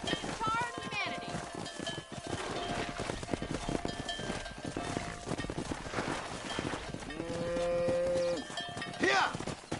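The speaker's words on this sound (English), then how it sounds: "let's see if you can herd cows as well as you can charm humanity" Cattle low and moo as a herd is driven along in the video game Red Dead Redemption, mixed with hoofbeats and voices speaking over the in-game ambience.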